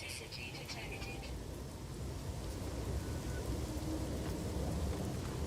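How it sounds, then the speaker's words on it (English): An extreme thunderstorm in the space game No Man's Sky brings steady heavy rain and low rumbling thunder, a dense continuous roar with a few brief higher tones early on. "It's an extreme storm."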